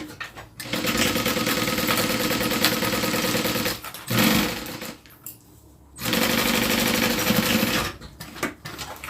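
A sewing machine stitches a zipper onto a small wallet in long, loud, steady mechanical runs, pausing briefly twice between bursts of rapid needle clatter.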